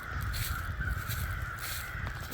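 Crows caw in the distance near a tree where a red-tailed hawk nests, their calls faint over a steady outdoor hiss and low wind rumble.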